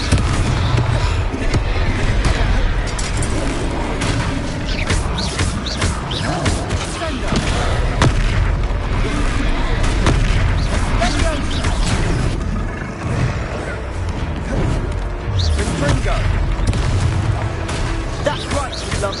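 Confringo blasting spells going off in Hogwarts Legacy: repeated loud, punchy explosions and impacts in a dense, busy battle mix, with game voices and a player calling out over them.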